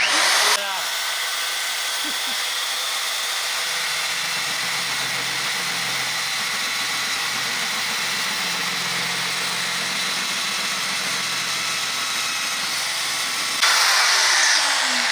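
An Evolution magnetic-base power tool cuts through metal, its motor running as a loud, steady whine for about thirteen seconds, starting and stopping abruptly.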